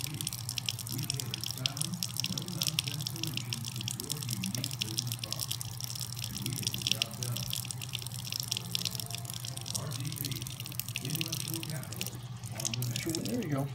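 Running water for a pet bird's bath splashes and trickles steadily at low level, with faint dripping and occasional soft voices under it.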